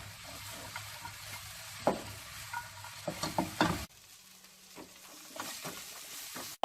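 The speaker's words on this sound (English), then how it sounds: "After the soya, I'm gonna put all the fried beef into the pan. Toss it around nicely." Fried beef tossed in a hot pan with soya sauce for crispy chili beef dry, with scraping stir strokes over a low sizzle, several sharp clanks of utensil on pan, then a quieter stretch of gentle stirring.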